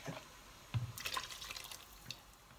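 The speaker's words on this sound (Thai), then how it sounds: "น้ำจานางจ้ะ ใส่ลงไป เพื่อความเข้มข้น" Yanang leaf juice is poured into a mushroom curry, giving faint liquid splashes and drips in short bursts, close and quiet with no talking.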